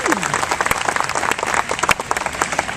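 A graduation audience bursts into loud, close applause, with thick rapid clapping throughout, a whoop or cheer at the start and crowd voices mixed in.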